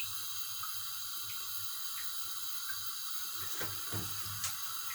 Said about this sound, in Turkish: yarım çay bardağı sıvı yağ döküyoruz.